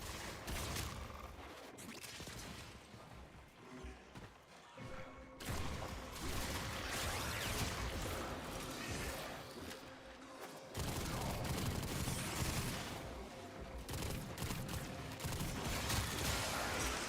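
Gunfire from a gun in Warframe, loud sustained bursts of rapid shots with mechanical clatter, cutting out briefly twice before resuming.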